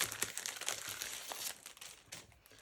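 Plastic packaging holding paper die cuts crinkles close up in quick, irregular rustles and crackles, busy at first and then thinning out, fairly soft overall.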